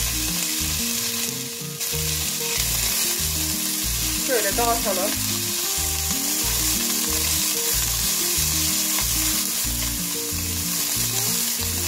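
250 grams of lamb fat sizzles and crackles steadily in a hot pot, with a stirring scrape partway through and a brief spoken remark over the frying.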